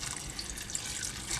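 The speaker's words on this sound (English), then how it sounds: "I'm going to pour over some water now" Water pours steadily over whole cloves for a stovetop simmer pot, a continuous close splashing and trickling hiss with no pauses or talk.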